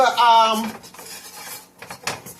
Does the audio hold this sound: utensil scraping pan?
yes